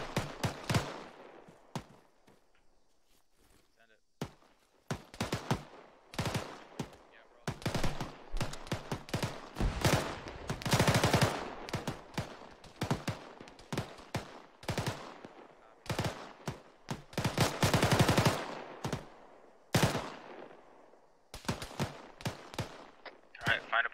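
Machine gun cover fire in a squad-training video game, long loud bursts of automatic fire in close and distant volleys, with a quieter lull at the start and short gaps between strings of shots.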